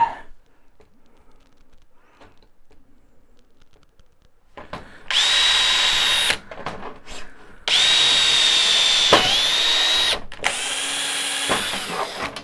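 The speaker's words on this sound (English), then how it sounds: "then we'll drill it" A power drill bores a hole during a laser power supply replacement, running in three loud whirring bursts of a few seconds each after a quiet stretch of faint handling, with no talk.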